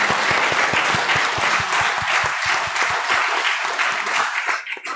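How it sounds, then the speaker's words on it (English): A church congregation at a Sunday thanksgiving service claps steadily and loudly, with a dense, continuous applause that fades out near the end. "Give them big applause one more time."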